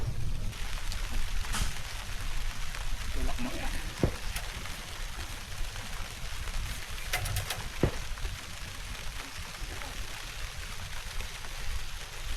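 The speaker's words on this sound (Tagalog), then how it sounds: "bumira na yung ulan, oh." Rain just beginning to pour, making a steady, dense hiss across the whole stretch, with a few sharper drips and a faint voice now and then underneath.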